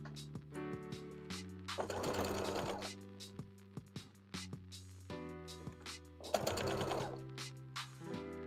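A sewing machine stitches a small Appa plush in two fast mechanical bursts of whirring needle strokes, separated by quiet pauses and light handling clicks, over steady background tones.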